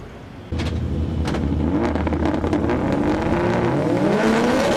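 Several rallycross cars rev loudly at a race start in Canada, rising in pitch together, a close roaring chorus building steadily before launching away.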